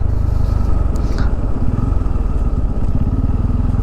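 A motorcycle on a long-distance ride rumbles loudly and steadily close by, riding over a rough road with a constant engine drone and some rattling.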